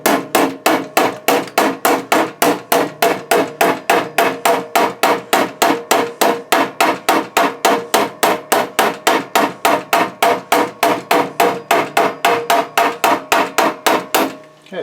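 A hammer strikes sheet metal to bend it for a hand-built woodstove oven top, about forty sharp, evenly spaced, loud blows ringing steadily and close up for the whole stretch, with no talking.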